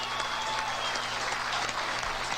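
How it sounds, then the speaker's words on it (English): A crowd at a poker tournament applauds a player, sustained clapping from many hands forming an even, dense patter at moderate distance. "Gets a nice ovation from the crowd"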